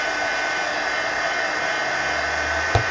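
A handheld dryer blowing over a painted art journal page, a loud, steady whirring roar that holds for the whole stretch with one brief bump near the end.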